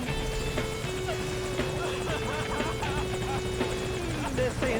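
Helicopter cabin interior in the Metal Gear Solid 5: Ground Zeros video game, a steady rotor drone running throughout with music and voices layered over it.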